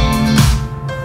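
A Moog synthesizer lead tone in a studio pop mix sounds as a brief, loud sustained line over a low bass bed, with no speech.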